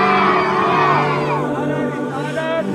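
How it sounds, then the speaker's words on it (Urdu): Rally crowd chanting a religious slogan response in unison, a dense massed roar of many voices held steadily for a few seconds, loud and continuous. "تو میں اب نعرہ لگاؤں گا، آپ سب نے نعرے کا جواب دینا"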